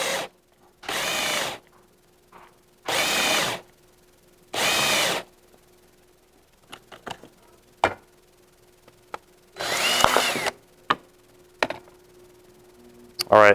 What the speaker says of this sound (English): I'm going to use the hand drill, and I'm just going to drill in through this